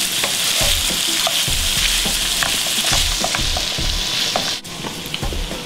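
Salmon and asparagus fry in a hot pan, a steady close sizzle with irregular scraping stir strokes throughout, one brief dip near the end and no voices.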